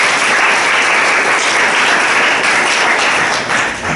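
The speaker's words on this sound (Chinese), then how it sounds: "你可以给耶稣一个掌声吗？" A church congregation at a Sunday service bursts into sustained, dense applause, loud and close, with many hands clapping together for several seconds.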